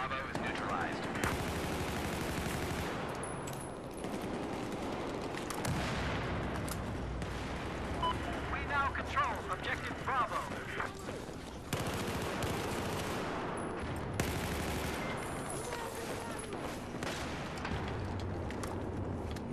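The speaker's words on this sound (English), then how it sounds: "I'm getting shot at right there." Battlefield 4 hardcore Domination gunfire in Operation Locker, dense bursts of automatic fire and loud blasts that come and go in waves, with a voice talking underneath.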